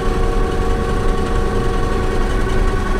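A diesel tractor with an automatic transmission, used for pulling a wagon during a corn harvest, runs with a loud, steady rumbling drone that holds unbroken throughout, with no voices over it.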